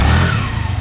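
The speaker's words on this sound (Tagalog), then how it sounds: "Naririnig naman siguro yung angil ng makina." A scooter-type motorcycle engine revs close by after a CVT pulley upgrade, a loud brief rising growl with a strong low rumble, alone without talk.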